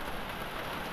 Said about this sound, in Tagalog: At napakalakas ang ulan.